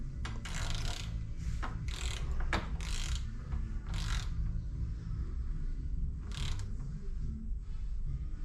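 Torque wrench ratcheting while ARP bolts on a Formula Ford engine are tightened evenly in stages, heard as short bursts of close, crisp clicking separated by pauses over a low steady background hum.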